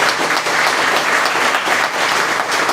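Loud, close applause from an audience at a book presentation, many hands clapping in a continuous dense roar without pause.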